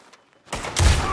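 A quick burst of gunfire in Red Dead Redemption 2 erupts after a brief quiet, several loud rapid shots bunched together up close.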